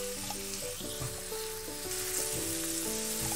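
Tomato and spices frying in a pan for dried fish bhuna, a dense continuous sizzle with light stirring scrapes and some faint background tones, no speech.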